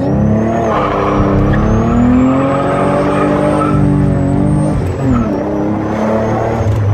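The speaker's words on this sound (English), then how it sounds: "The first gear skids I think is about all it's got in it though." Nissan 300ZX Z32 slick top spinning its tyres in first gear, a loud, sustained engine roar with rising and falling tone and a thin high squeal of tyre skid throughout, close by.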